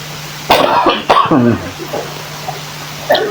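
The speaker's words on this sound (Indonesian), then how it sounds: "Batuk dia." A sharp cough bursts out, then a second harsher cough with throat-clearing, followed by quieter rustling and a faint final cough.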